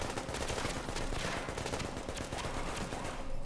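Rapid automatic gunfire in The Division, a dense continuous burst of shots at steady loudness, with no talking.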